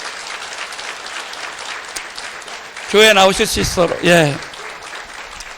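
A church congregation applauds for an elderly grandmother after her testimony, a burst of clapping under and between a pastor's spoken words.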